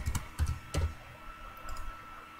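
A few quick computer mouse clicks, close and fairly quiet, in a short uneven cluster followed by a faint lighter click or two against a steady electronic hum.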